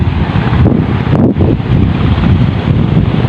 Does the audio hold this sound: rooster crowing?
no